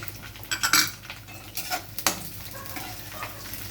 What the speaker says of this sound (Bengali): তেল গরম হয়ে গেছে, আমি এবার গাজরগুলো একটু দিয়ে দিচ্ছি। গাজরগুলো আমি হালকা নাড়াচাড়া করে নেব।